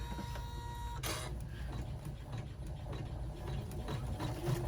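A home embroidery machine stitches steadily throughout, a dense continuous mechanical whir with fast repetitive needle chatter, close and moderately loud with no talking.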